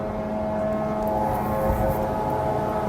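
Attack drones flying over Kuwait produce a steady, droning engine hum with a faint whine, holding even and continuous at moderate loudness, with no speech.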